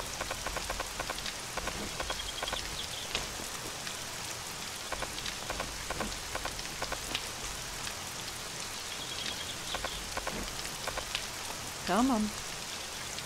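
Steady rain patters down in the video game 7 Days to Die, a dense continuous hiss of drops, with a brief spoken voice near the end.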